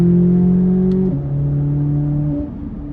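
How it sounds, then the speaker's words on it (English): A sports car engine at full throttle, held loud and steady with a clear shift-like drop in pitch around one second and another near two and a half seconds, with no talk over it. "right there was full throttle again for a split second"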